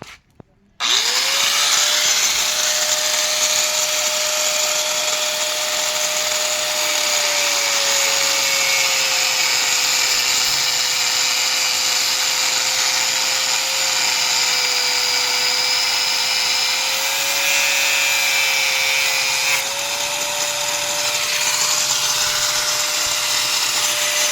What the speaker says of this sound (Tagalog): Ito yung grinder.